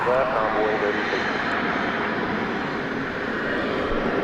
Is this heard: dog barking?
no